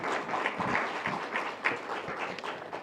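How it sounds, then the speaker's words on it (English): An audience applauds at an international patient summit in Delhi as the chairs walk to the stage, steady clapping of moderate loudness for a few seconds with no talk over it. "Can we have a round of applause for our chairs as they walk to the stage?"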